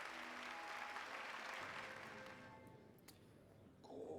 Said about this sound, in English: I hear how the crowd adores you.